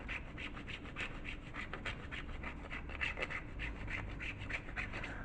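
Chocolate being grated with a small hand grater over a banoffee pie, giving quiet, close, rhythmic rasping strokes that repeat steadily throughout.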